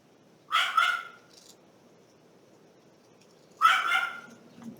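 A puppy frightened by rain gives two short, fairly close barks a few seconds apart, with quiet gaps between them.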